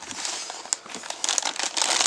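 Crinkling and crackling of plastic wrap as a boxed Airfix model kit is opened, close and fairly loud, with irregular bursts of crumpling that grow denser toward the end.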